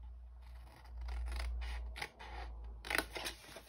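Scissors snip through card while a small craft gift box is being shaped, a run of close, crisp cuts with a quiet pause and then a few sharper snips near the end.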